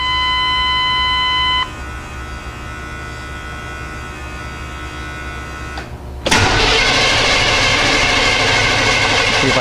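A truck engine cranks but fails to start: a steady mechanical drone follows a brief electronic beeping tone, then jumps abruptly to a louder, harsher whir that continues to the end.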